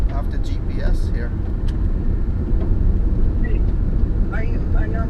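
A car rolls along a gravel road during a delivery run, a steady low rumble of tires and engine running throughout, with people talking over it inside the vehicle.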